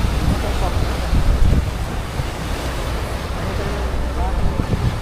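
Pacific Ocean waves break and churn around a boat at sea, a loud, continuous rushing wash mixed with heavy wind buffeting the microphone.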